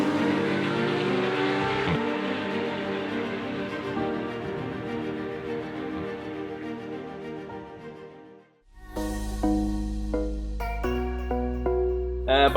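A Porsche GT3 driven fast on a road in Germany, its engine giving a loud, sustained harmonic drone that slowly falls in pitch. The drone cuts out abruptly, then a different tonal sound with a heavy low rumble takes over.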